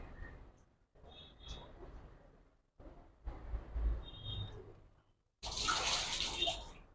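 Water is poured from a cup onto a large cobra's tail in short splashing bursts separated by pauses, ending in a louder, fuller gush.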